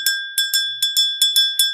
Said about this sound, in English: Almost forgot to ring that bell.